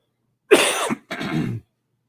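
One person coughs twice in quick succession, a sharp, close, fairly loud burst followed by a second shorter cough, with silence before and after.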